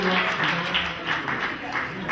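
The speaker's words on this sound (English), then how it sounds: "can we give Reverend Sam Saylor a round of applause?" Audience applause at a community gathering, a steady wash of many hands clapping throughout, moderately loud, with voices audible underneath.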